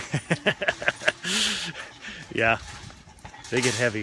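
A 65-pound dog pants in rapid, breathy bursts close by, with a couple of short whimpering yelps, while people talk over it.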